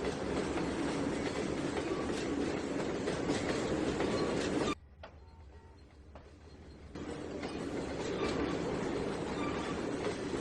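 A train in the Trainz 2019 video game rolls steadily along the tracks with a loud continuous rumble and clatter, briefly dropping away before the noise returns.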